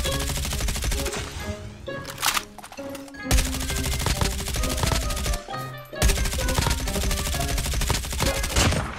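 Rapid automatic gunfire fills Call of Duty Mobile gameplay, dense bursts of shots layered with game effects and music, broken by a couple of short pauses.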